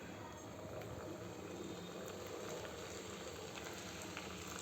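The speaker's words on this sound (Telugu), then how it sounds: "ఇది ఆయిల్ అయితే వేడైందండి. నేను గులాబ్ జామ్ అయితే వేయించుకుంటున్నాను." Gulab jamun balls fry in hot oil in a small pan, giving a faint, dense, continuous sizzling crackle with no break, heard close and soft.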